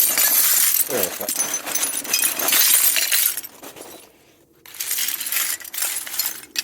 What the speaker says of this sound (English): So I'm going to put loads of this in, and I'm going to break it down